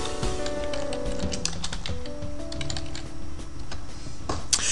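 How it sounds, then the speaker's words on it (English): Rapid, close clicking of keys on a computer keyboard as a search is typed, in quick uneven bursts. "So I'm going to type in spring training."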